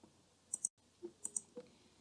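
A few crisp mouse clicks on the OK button in PSPP statistics software, sharp isolated taps in quick pairs, close and quiet against a near-silent room.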